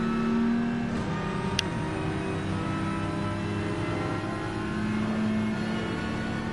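Group 4 race car engines in Gran Turismo 7 drone steadily at close range, several cars running together with a continuous mid-pitched roar and slight swells in revs, no voices present.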